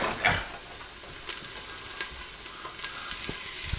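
Onions frying for a Caribbean hambone stew, a steady close sizzle with a spoon scraping and stirring through the pan at irregular moments, plus one sharp clack near the start.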